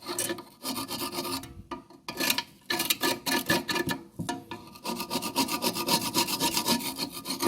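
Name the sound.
scraping rust off water pump plate with chisel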